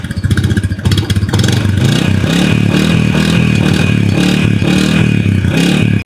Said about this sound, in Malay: Jom kita dengar bunyi motor enjin ni.